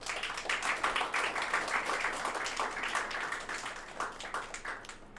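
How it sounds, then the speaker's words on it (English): An audience at a valedictory session of a national geospatial technology summit gives a guest of honor a round of applause, a steady crowd of moderate-sized clapping heard from a distance in a large hall. "Let's give her a round of applause."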